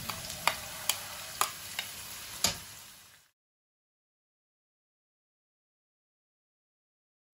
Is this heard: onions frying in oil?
yes